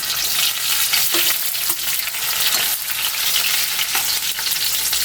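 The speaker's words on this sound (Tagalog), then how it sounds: "Golden brown na yung luya natin. Bawang na yung lagay natin." Ginger and garlic frying in a pan give a dense, constant sizzle with light stirring scrapes, close up and unbroken, no talking.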